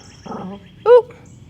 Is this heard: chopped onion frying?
no